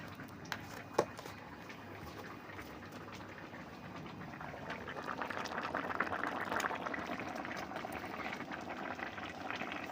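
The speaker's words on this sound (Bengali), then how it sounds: "মিরগেল মাছ, মাছের ঝোল, পাতলা করে জিরে বাটা দিয়ে, টমেটো দিয়ে, পটল আলু দিয়ে ঝোল করছি।" A thin mrigal fish curry with cumin paste, tomato, pointed gourd and potato simmers in a pot, giving a soft, continuous bubbling and sizzling that grows slightly busier over time, with a couple of faint clinks early on.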